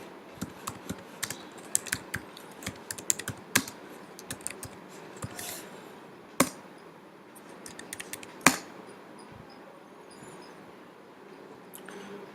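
Fingers typing a terminal command on a computer keyboard, a quick run of sharp key clicks in uneven bursts with a few louder keystrokes, then pauses, close and alone.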